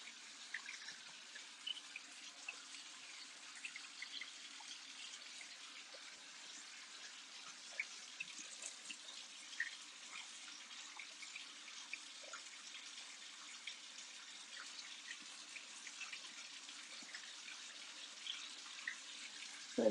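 Tap water runs steadily to fill a bath, a faint, even hiss of flowing water with small irregular splashes and drips, no talking.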